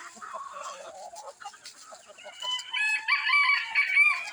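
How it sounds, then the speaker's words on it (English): A rooster crows among a backyard flock, the call rising near the end after softer clucking and bird chatter, moderately close and fairly quiet. "That's a rooster"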